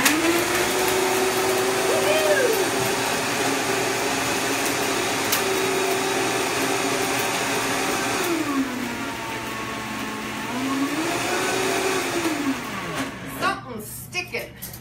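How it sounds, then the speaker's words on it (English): A blender whirs continuously through a coconut mixture, its motor pitch rising and dipping as the load shifts, loud and close, then sputters unevenly near the end as something sticks. "Putting it onto our blender and giving it a go."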